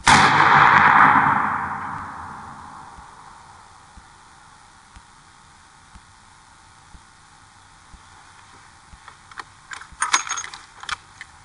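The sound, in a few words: 50 BMG rifle shot fired unsupported from the shoulder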